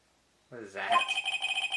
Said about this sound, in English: It's the Steel Samurai theme song, isn't it?